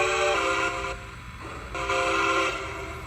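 Lionel LionChief Plus 2-8-4 Berkshire model steam locomotive sounding its whistle: two sustained chime blasts, loud and close, separated by a brief dip, from the toy's onboard speaker.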